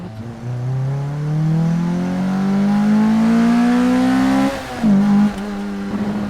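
A Lotus Elise sports car engine revs up steadily, its pitch climbing for several seconds as it switches to a more aggressive cam at high revs, then drops briefly before settling into a high, loud drone.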